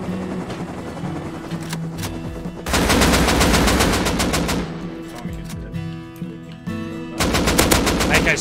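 Rapid automatic AK rifle fire from the video game Rust, loud, dense bursts with brief gaps and a renewed volley near the end, close-sounding and without speech.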